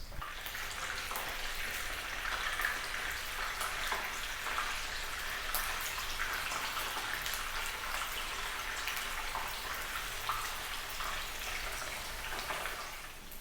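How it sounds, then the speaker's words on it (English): Tofu shallow- or deep-frying in oil until golden brown, giving a steady, dense sizzle and crackle that holds at an even level throughout, with no voices. "cut it into any shape that you like, and then fry it in some oil"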